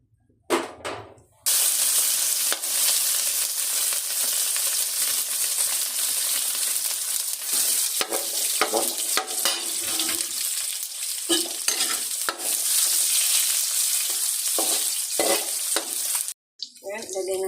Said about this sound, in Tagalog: magluluto nga pala ako ng ginisang kalabasa na may pechay, tsaka malunggay, tsaka